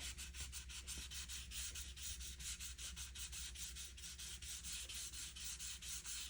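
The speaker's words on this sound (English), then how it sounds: "I'll start my sanding with the grain" Steady rhythmic rasping of sandpaper rubbed back and forth with the grain over a wooden rifle stock, even strokes repeating close up with no voices.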